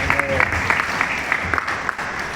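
Audience at a Christian prayer festival in Tirupati clapping steadily, a dense, loud round of applause from a seated crowd that carries on for the whole stretch.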